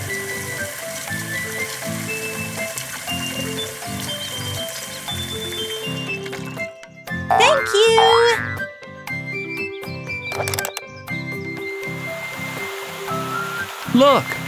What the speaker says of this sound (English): Look, the fountain is working.